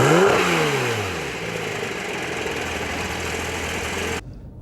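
A 2014 Porsche 911 GT3 engine fires up with a loud rising rev, then eases back into a steady, slightly rough idle before cutting off abruptly.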